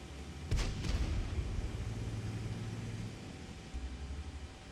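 A Centurion tank's main gun fires in World of Tanks, one heavy boom near the start with a quick echo, followed by a low engine rumble that fades.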